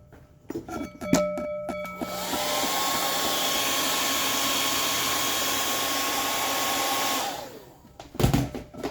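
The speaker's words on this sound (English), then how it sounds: "Dry that off with a hairdryer real quick." A hair dryer drying a 1/6-scale Predator figure sculpt switches on and blows with a loud steady whoosh and whine for about five seconds, then winds down, with handling clicks around it.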